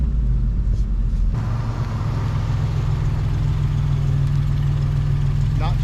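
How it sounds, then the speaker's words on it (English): Engine of an old Toyota 4Runner truck running after major engine repair, a steady low rumble and hum that holds evenly throughout, close and continuous. "Truck's running good."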